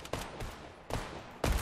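Fortnite gunfire comes as a few separate loud shots, spaced irregularly, with brief quiet gaps between them and the last shot the heaviest, with no talking over it.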